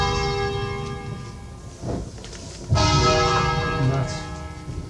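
The five bells of the parish church in Lallio, Bergamo, ring out with sustained, overlapping tones, growing louder and fuller partway through, with faint voices in the background.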